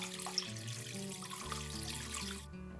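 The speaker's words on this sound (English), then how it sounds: "I'm filling a bucket with water and flower food" Water running from a tap into a bucket, mixed with flower food for soaking floral foam bricks; a steady, moderately loud pour over a low hum with tonal background sounds, stopping abruptly near the end.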